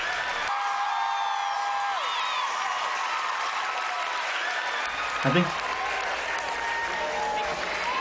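Large high school crowd of about 1700 students cheering and clapping after a b-boy dance performance, a steady roar of applause with whoops and shouts, while a nearby voice speaks briefly.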